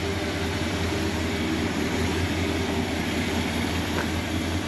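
A 1966 Ford F-250 Custom Cab engine running quietly, a smooth, steady low hum with a faint higher whine, unbroken and free of talk.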